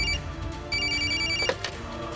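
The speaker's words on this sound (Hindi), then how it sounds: "कल्याणी को फोन करके संपदा के बारे में बताना ही होगा।" A telephone rings in a Hindi TV drama scene, two short electronic ring bursts over a quiet indoor background, followed by a faint thump.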